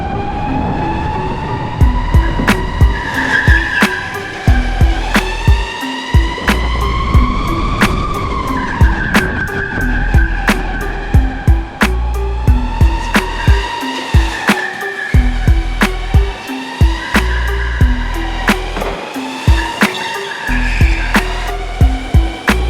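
Go-karts lap an HQ kart track, tires skidding and squealing repeatedly through corners while engines whine steadily, loud and continuous with rhythmic bursts and no talking.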